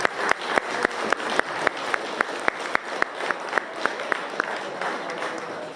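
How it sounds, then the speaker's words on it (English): A round of applause for the vendors at the Mile High Open model car show, with a broad wash of clapping punctuated by sharp, steady rhythmic claps throughout, moderately loud and without talk. "Can we get a round of applause for the vendors"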